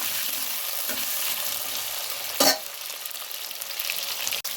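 Potatoes fry in a hot pan with a steady, close crackling sizzle that runs throughout, interrupted by one brief louder stir or clatter midway.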